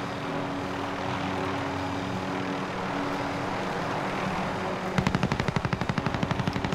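Enemy gunfire in Warzone sounds as a rapid, steady burst of close machine-gun shots over the continuous drone of a helicopter engine, starting abruptly near the end.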